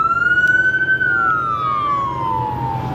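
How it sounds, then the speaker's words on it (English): A police siren wails nearby at a Mustang car meet, one long tone rising slightly then gliding down, loud and continuous over a low rumble of traffic. "Why the sirens though?"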